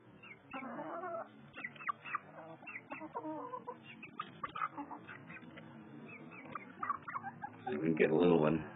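Chickens cluck and squawk close by as worms from a homemade worm bin are tossed to them. Short bursts come in an uneven rhythm and grow louder and busier near the end, with someone talking between them.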